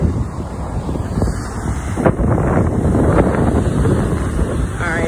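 Ocean waves breaking on the shore at Half Moon Bay beach in California, a steady broadband rush of surf mixed with heavy wind buffeting the microphone, continuous and fairly loud throughout with no clear separate wave crashes.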